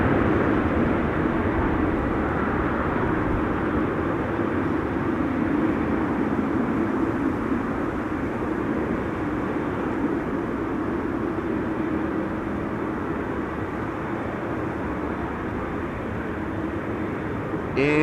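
An airliner landing on runway 27, the Buitenveldertbaan at Schiphol, with a broad steady engine and air roar that holds loud and constant, close and unbroken.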